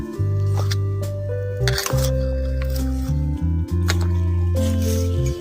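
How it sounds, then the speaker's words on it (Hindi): Warm wheat flour mixed with ghee by hand for atta laddu, close squishing and pressing of the soft dough over a steady background hum. "इसी तरह से हम आटे को और घी को सभी किनारे वगैरह को सभी को मिक्स कर।"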